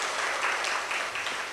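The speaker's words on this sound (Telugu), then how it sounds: "చప్పట్లు కొట్టి దేవుని స్తుతించండి." A church congregation claps in praise during a sermon, a brisk, dense burst of hand clapping that stays steady and close for the whole moment with no talk over it.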